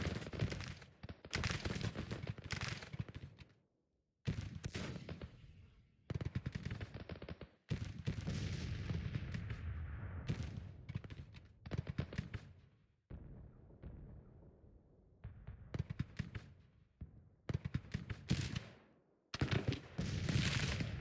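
Battle sounds from the Civil War strategy game Grand Tactician, with rifle volleys including Henry rifles and artillery fire: dense, continuous crackling gunfire with heavy booms, broken by short silences.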